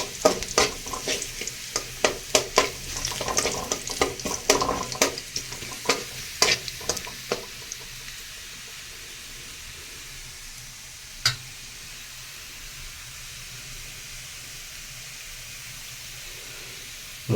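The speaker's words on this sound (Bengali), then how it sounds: "রসুন ও আদা কুচিটাকে ভালো করে ভেজে নিতে হবে।" Chopped garlic and ginger fry in a pan for okra dopiaza, sizzling with sharp repeated stirring scrapes for several seconds, then settling into a quieter steady hiss with a single later clink.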